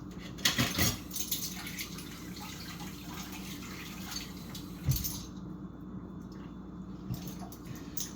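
Tap water running into a measuring cup in a kitchen, a soft steady trickle with a few louder splashes and clinks, fairly quiet and without talk.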